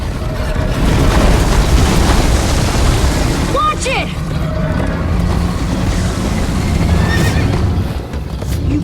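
A horse in Minecraft: Story Mode whinnies loudly over rushing, surf-like background noise and hoof clatter, with a second fainter neigh following.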